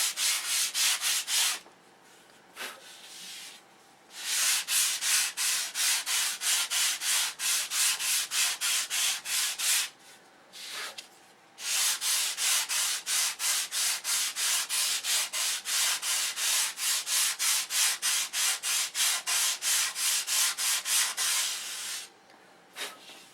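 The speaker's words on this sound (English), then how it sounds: "And then just sand your line off." Steady back-and-forth hand sanding of wooden flaps, loud and close, in long rhythmic runs of even strokes broken by brief pauses, with no talking.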